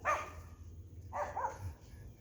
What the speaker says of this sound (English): oh, a new puppy.